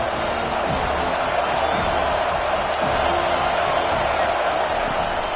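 Steady roar of a stadium crowd at a college football game between Kansas and FSU, a loud, dense, continuous wash of cheering with faint commentary mixed in.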